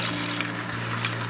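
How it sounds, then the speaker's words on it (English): Half a cup of water pours steadily into a pan of cooking pork for pepper pork curry, a continuous splashing gush over a low mechanical hum, close and fairly loud. "So now I'm going to add half a cup of water"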